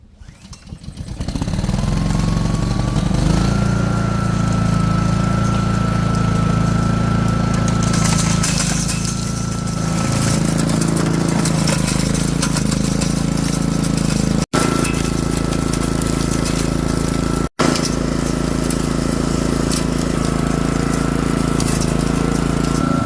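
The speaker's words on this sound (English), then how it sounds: "it's powered by a lawnmower engine" Rock crusher driven by a lawnmower engine, crushing hard quartz ore at a gold mine; the small engine starts and runs loud and steady at close range, with a constant droning hum throughout.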